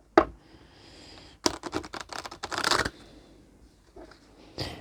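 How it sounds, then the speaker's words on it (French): A deck of tarot cards is shuffled in a quick burst of crisp riffling flutters and slaps, with a sharp snap at the start and another at the end. The shuffling is close and is heard alone, with no talk. "Je vais bien mélanger le jeu."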